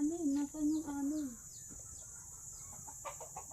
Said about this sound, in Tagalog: Narinig ko yung tilaok ng mga tandang